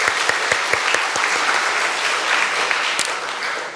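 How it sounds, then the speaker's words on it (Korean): Church congregation clapping in welcome during a Sunday worship service, a dense burst of applause with a few sharp nearby claps standing out, holding steady before easing slightly at the end. "환영의 박수로 인사하겠습니다."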